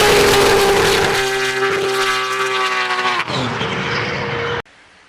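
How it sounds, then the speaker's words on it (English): A BMW E92 M3 drift car fitted with a high-revving RB28 straight-six screams loudly at high rpm, then the pitch drops as it backs off, ending abruptly. "it's an RB28, my dream engine that revs to 10 grand"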